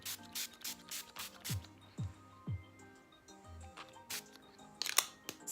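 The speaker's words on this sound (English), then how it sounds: "What I will be using is my Tarte Rainforest by the Sea spray" Tarte Rainforest by the Sea setting spray misted in a run of short, crisp hissing pumps, a quick cluster early and a few more near the end, over soft background music with no talking.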